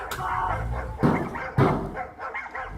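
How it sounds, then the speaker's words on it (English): Dogs barking indoors, two loud close barks amid murmuring voices and household background noise. "I think he's dealing with his dogs."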